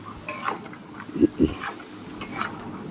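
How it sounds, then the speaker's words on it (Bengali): Chickpea and chicken ghugni being stirred in a pan, with soft sizzling and a couple of distinct spoon knocks and scrapes at close range. "এবার আমি ভালো করে নেড়ে চেড়ে নেবো।"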